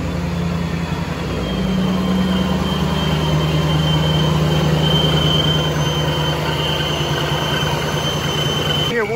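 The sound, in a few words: centrifugal supercharger whining at engine idle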